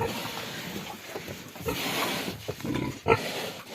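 A young white Maxter piglet on a farm grunts in short, snuffling bursts over a constant noisy background, with one sharper squeal-like grunt near the end.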